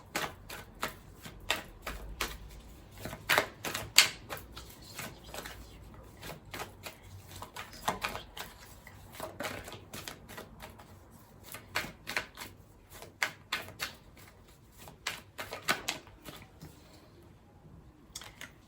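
Tarot cards are shuffled for a reading in quick, repeated riffling and flicking bursts, close and crisp but fairly quiet, with brief pauses between runs and no talking.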